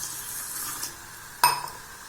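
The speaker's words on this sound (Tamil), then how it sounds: "இப்போ நம்ம அரிசி இதில் 2 டம்ளர் தண்ணி ஊற்றிக்கலாங்க." Water is poured from a tumbler onto rice in a cooking pot while making nookol rice, a steady close splashing hiss with a single sharp metallic clink partway through.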